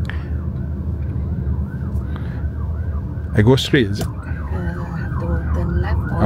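An ambulance siren wails in repeating sweeps through city traffic in Malaysia, heard from inside a 2025 Zeekr 7X RWD Long Range, steady and fairly close, with the cabin voices talking briefly over it.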